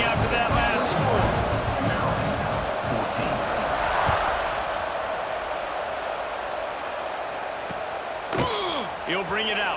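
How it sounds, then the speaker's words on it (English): A stadium crowd in College Football 26 keeps up a steady, dense roar throughout. A commentator's voice runs over the noise, and a few sharp thuds and whistle-like sweeps come in near the end. "this crowd is buzzing after that last score"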